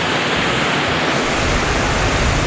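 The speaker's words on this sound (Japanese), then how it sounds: "滝だ。" A waterfall beside a low-mountain hiking trail on the Miura Peninsula roars as a steady, dense wash of rushing water, loud and unbroken throughout, with no voices.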